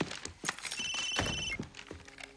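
A telephone rings indoors, a short electronic trill with bright sustained tones, heard over some background noise and a few thuds.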